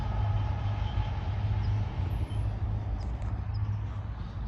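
An outbound BNSF domestic double-stack intermodal freight train rolls past at close range, a steady, loud low rumble and rattle of wheels and cars with a brief high squeal, no voices.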